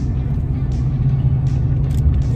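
An OBS Powerstroke 7.3L diesel truck drives in the early morning, its engine a loud, steady low rumble with road noise, with someone talking over it.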